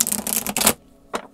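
Tarot cards are shuffled by hand in close, crisp riffling bursts, two quick runs followed by a short pause and one more brief flick.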